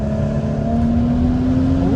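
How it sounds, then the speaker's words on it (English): A tuned BMW 335i runs with its anti-lag system engaged, giving a steady, close engine drone and whir that climbs sharply in pitch at the very end. "Something I want to try here is the anti-lag"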